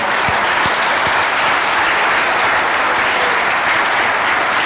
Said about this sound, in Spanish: Dios se merece un aplauso.